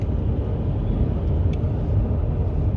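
A car travelling along a road, heard as a steady low rumble from inside the vehicle, with continuous engine and road noise and no voices.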